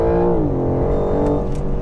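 A 510 bhp BMW M4 Competition launching from a standstill under launch control and accelerating hard, its engine note loud and continuous from inside the cabin, rising steadily in pitch as it pulls through the gear.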